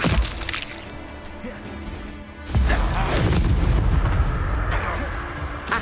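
Accio and Incendio spell effects in the Hogwarts Legacy video game, loud booming, crackling blasts that rumble through the whole clip with a heavy fiery burst midway.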